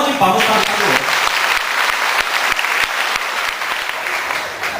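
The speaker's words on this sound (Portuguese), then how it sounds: "Uma salva de palmas para o Padre Watson." A church congregation claps steadily for a priest, a dense wash of applause that carries on throughout with a few distinct sharp claps standing out.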